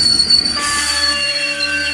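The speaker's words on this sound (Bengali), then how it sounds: "ট্রেনটা ঠিক সময়ে মাঝদিয়া স্টেশনে পৌঁছে গেল" A cartoon train pulls into a station with loud metallic wheels screeching in a sustained high squeal, followed by low rumbling as it slows.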